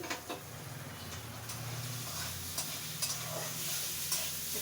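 Rice fries in a pan for egg pulao with a faint continuous sizzle, a low hum underneath and occasional light clicks of a spoon stirring, heard close with no talk.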